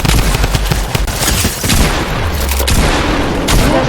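Rapid submachine gun fire in Fortnite, bursts of close, loud shots with booming low-end hits, dense and continuous over the whole stretch, no talking.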